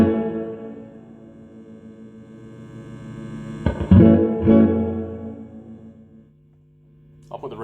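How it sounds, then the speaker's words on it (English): Electric guitar tones ring through a 1976 Fender Twin Reverb amplifier with its reverb turned all the way up, notes washing out into long echoing tails, with a few sharp strums midway. "I'll turn the reverb all the way up"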